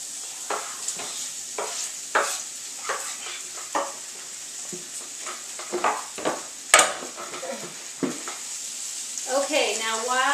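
Vegetables brown in butter in a pan, a soft sizzle under repeated scraping and stirring of a utensil against the pan, with a brief clatter partway through.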